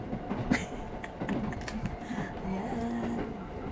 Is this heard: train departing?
yes